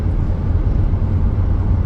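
A car cruises on a highway at about 110 km/h, a loud, steady low road and engine drone from inside the cabin with no change in pitch and no talking.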